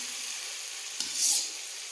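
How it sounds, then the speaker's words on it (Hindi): Chopped tomatoes frying in an open pan for dhaba-style masala okra, giving a soft, steady sizzle with a brief stirring scrape midway. "अब इसको हम 2 से 3 मिनट के लिए इसको फ्राई करेंगे ताकि टमाटर भी साथ में गल जाए।"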